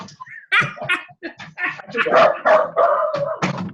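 A dog barks and yaps indoors in a series of close, sharp bursts, several quick barks in irregular rhythm with whimpery yips between them, loud and alone.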